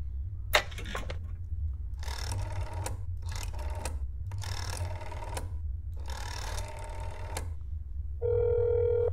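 A telephone in the video game That's not my neighbor rings in four evenly spaced loud buzzing trills over a low steady hum, followed by a brief electronic tone.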